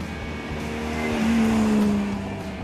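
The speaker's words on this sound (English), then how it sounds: "this very car was the Paris show car, a 1955 Europa 250 GT. And I get to drive it." A 1955 Europa 250 GT with a 3-liter V12, the Paris show car, driving along with a steady engine drone that swells in the middle, a tonal whine rising and settling, no talk.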